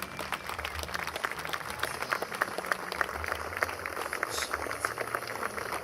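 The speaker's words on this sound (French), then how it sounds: "Je vous demande d'applaudir la délégation avec Malak Shabazz, la fille de Malcolm X." A seated audience at a memorial tribute to Egyptologist Alain Anselin claps steadily for a visiting delegation. The dense, even patter of many hands holds at moderate distance for several seconds without a break.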